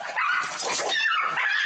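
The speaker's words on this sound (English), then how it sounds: "So you don't actually see the dogs fighting because they're kind of like around the corner, but you hear them fighting." Dogs fighting out of sight around a corner: a dense, continuous burst of snarling, yipping and frantic barking at moderate distance, with no talk.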